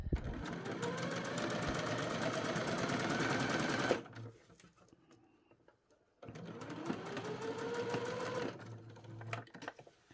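Sewing machine stitching binding tape around a garment armhole, running loud and steady for about four seconds, pausing briefly, then running again in a second near, continuous burst.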